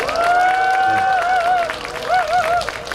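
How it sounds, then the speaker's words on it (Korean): An audience at a Catholic laity gathering claps together, a steady wash of applause under a clear voice that holds and bends a tone over it. "여러분들 같이 한번 박수 쳐주면 더 힘내지 않을까 생각됩니다"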